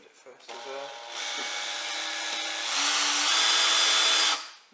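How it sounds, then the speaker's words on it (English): A power drill whirs loudly and continuously drilling a hole in a Nissan Navara NP300 pickup roof, its motor pitch climbing as it bites in, then winding down at the end. "Going to drill the hole."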